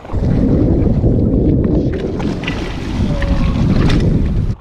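A big wake from a passing ship in a shipping channel washes and sloshes against a small fishing raft, a loud, continuous rush of churning water mixed with wind buffeting the microphone.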